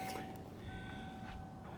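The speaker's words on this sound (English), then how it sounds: "Oh yeah, the chime still works." A steady, thin electronic door warning chime from a 1986 Ford LTD Crown Victoria station wagon holds continuously at one pitch, fairly quiet beneath low engine-like rumble and faint background noise.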